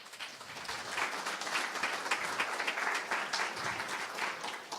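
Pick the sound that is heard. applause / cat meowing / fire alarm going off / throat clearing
applause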